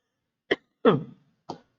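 A man coughs during a recorded lecture, three short dry bursts with a slightly longer, rougher middle one, close and clear against silence.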